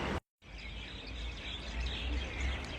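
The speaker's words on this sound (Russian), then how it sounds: "Слышите птиц?" Faint birds chirp outdoors near a river in Tajikistan, with small, scattered calls over a quiet, steady background hiss.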